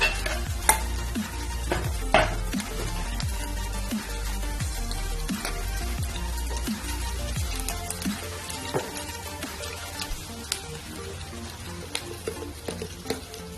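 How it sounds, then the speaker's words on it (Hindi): Slit green chilies and ginger juliennes sizzle steadily in ghee and oil in a pan for a shahi paneer, with a continuous frying hiss, occasional sharp stirring clinks and scrapes, and no talk. "दो टेबलस्पून क्लैरिफाइड बटर यानी घी लेके और 2 टेबलस्पून ऑयल लेके हम अपनी स्लिट ग्रीन चिलीज और जिंजर जूलियंस"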